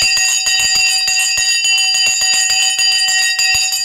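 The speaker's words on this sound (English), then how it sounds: "All right, the bell has gone." A stock market opening bell rings in a loud, continuous electric clang with rapid, evenly spaced strikes, sustained for several seconds.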